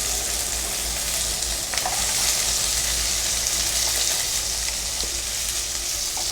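Onion, dried red chilli and garlic saute in a pan with a loud, continuous close-up sizzle and occasional stirring scrapes, and no voices.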